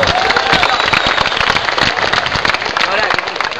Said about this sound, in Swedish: Ta en applåd